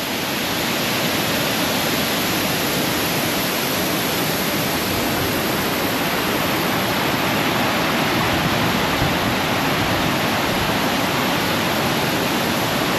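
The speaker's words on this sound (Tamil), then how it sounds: "இதில் தண்ணி அதிகமாக இருக்குது, ஆனால் அது ஃபால்ஸ் பார்க்கறது பயங்கரமாக இருக்குதுங்க" Chinna Suruli Falls near Theni, a waterfall running with heavy flow, roars as a loud, steady broadband rush of water with no break for the whole stretch and no voices.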